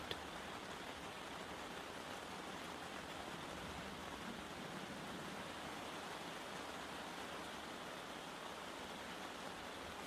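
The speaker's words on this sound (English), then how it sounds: "The sound of the rain falls atop the tent." Rain drums steadily on a tent, a constant soft hiss of drops on fabric that neither builds nor fades, with nothing else heard.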